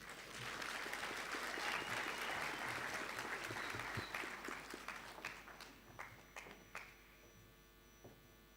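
Applause from a crowd at a university graduation ceremony, dense steady clapping that thins into scattered last claps and fades out.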